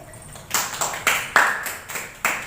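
Students clap in a classroom for a classmate who answered correctly: a short, scattered burst of hand claps and slaps over about two seconds, fairly close, with no talking.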